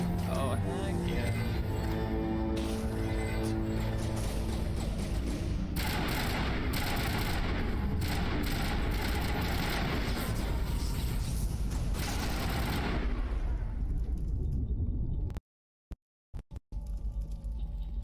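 Sustained video game gunfire with dense rapid bursts and mechanical clatter over a steady din, close and loud, ending abruptly in near silence with a few scattered final sounds.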